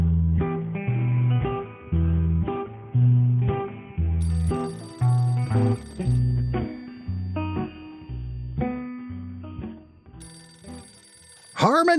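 A telephone bell ringing in repeated bursts with short gaps, fairly loud and close, alone with no voices over it, followed by a brief rising tone at the end.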